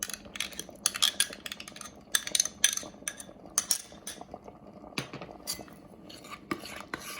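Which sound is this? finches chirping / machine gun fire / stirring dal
stirring dal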